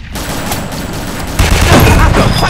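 Dense, loud bursts of gunfire and explosive booms from a WWII combat video game on a winter map, rapid and continuous, growing heavier midway, with a voice shouting in German.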